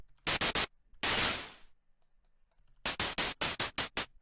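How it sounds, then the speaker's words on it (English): Short bursts of white noise from an FL Studio 3X OSC synth: a quick cluster of three sharp hits, one longer hissing wash, then a run of about eight rhythmic noise claps, loud and dry. "I'm gonna use white noise because I've seen people use like white noise like 3 times and it makes"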